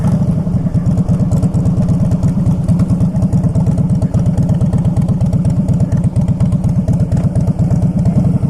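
A 2011 Harley-Davidson Fat Boy Low motorcycle, a 1500cc V-twin, thumps loudly and steadily at close range as it is ridden and shifted through gears, with an even pulsing beat throughout.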